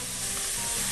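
Chicken livers and hearts hit a hot pan with a loud, dense, steady sizzle, brief and close, with no voices.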